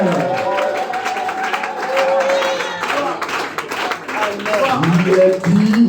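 A church congregation at a convention service cheers and claps, crowd noise and applause rising and falling beneath loud voices and sung or shouted praise.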